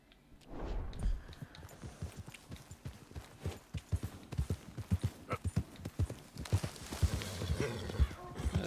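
Horse hooves clip-clop on the ground in the Western video game Red Dead Redemption, a steady, irregular run of close hoofbeats with a brief whinny and background game ambience.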